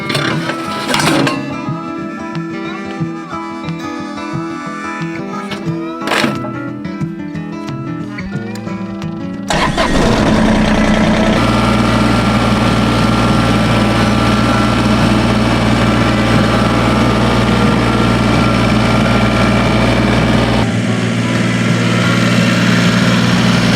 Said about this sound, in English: I'm going to bring the tractor down here.